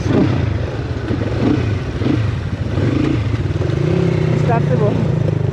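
A motorcycle starts and revs on a rural road trip, its mid-pitched engine running steadily close by with some clatter, while people talk over it.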